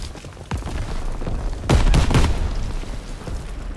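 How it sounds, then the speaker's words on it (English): A grenade explosion booms in a Call of Duty WWII D-Day mission, a single loud burst about midway through amid scattered gunfire and battle noise, fading into a rumbling tail. "Daniels, get a grenade in that bunker!"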